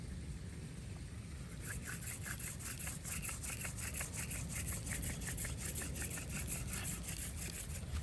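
Rapid, rhythmic rasping of a wooden hand-drill spindle spun back and forth against a fireboard for friction fire, a close, steady scratchy rubbing that continues the whole time.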